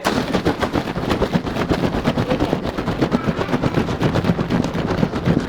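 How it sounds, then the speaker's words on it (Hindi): Tightly closed jar holding a little milk shaken hard to froth it for cold coffee: rapid, rhythmic sloshing rattles, loud and close, continuing steadily throughout. "अगर आपको मिल्क फ्रॉथ करके डालना है और दूध ऑलमोस्ट खत्म हो रहा है, तो जार को लेके एंड मेक श्योर कि ये कस के क्लोज्ड है।"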